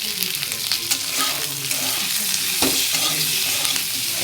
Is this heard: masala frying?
yes